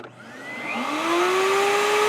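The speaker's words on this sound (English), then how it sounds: "when I flip this switch right here, this router table and the vacuum should turn on at the exact same time" A Bosch RA1181 router table and a shop vacuum switch on together, the motors whining up from a click to a loud, steady rising drone with no talk.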